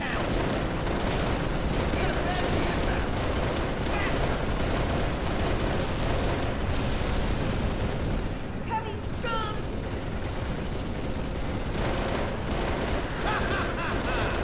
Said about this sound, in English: It's kind of hard to shoot all these guys with Banshee shooting at you.